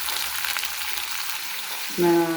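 Fish frying in a pan gives off a steady, moderate broadband sizzle, and near the end it swells louder with a brief tonal clatter as the fish is stirred or moved. Nobody speaks.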